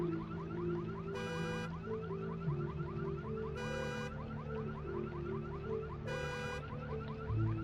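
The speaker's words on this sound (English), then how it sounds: "Car alarms." Car alarm in the video game Dr. Morro's Ritual, a steady looping electronic warble with repeated sharp chirping bursts every couple of seconds, loud and continuous over a low droning background.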